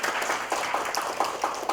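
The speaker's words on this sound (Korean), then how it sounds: "그러면 박수 받고 들어갈까요?" Applause in a university semiconductor engineering lecture hall: sparse, moderately quiet clapping from a small class, with a few distinct louder claps standing out over about two seconds.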